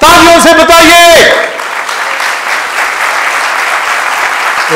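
A voice speaks or chants loudly for about a second before a church congregation at a Sunday sermon breaks into applause, which continues as a steady, moderately loud wash of clapping to the end.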